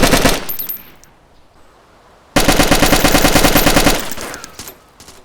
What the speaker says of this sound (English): Single shots with the AK-74 sounds a lot like the AKM, which is probably just a placeholder, but full auto sounds slightly different as shown here.